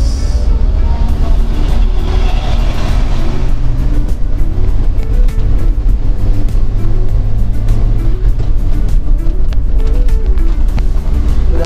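A road vehicle on a morning drive between Kertek and Kledung accelerates, with a loud continuous engine drone and road rumble rising in pitch, heard from inside without talk.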